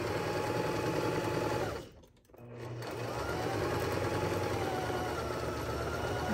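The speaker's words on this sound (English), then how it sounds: "just sew straight across" A sewing machine runs steadily, back-stitching and then sewing straight across a fabric necktie, with a brief pause partway through before the close, even motor hum resumes.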